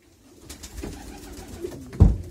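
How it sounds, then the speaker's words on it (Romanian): A pigeon in a loft box gives a low, muffled coo, with a sharper thump or flutter near the end of the short stretch. "Și așa arată acești porumbei"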